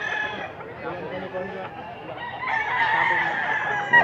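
Chickens cluck and a rooster crows on a farm, steady fowl noise throughout with a louder crowing stretch late on, and voices talking over the birds.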